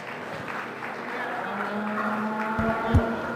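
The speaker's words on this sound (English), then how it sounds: "Let's give this young man a round of applause." Applause from the audience at a market and breeding beef cattle show, a moderate, steady patter of clapping heard alongside background hum and a low, sustained tone from the venue.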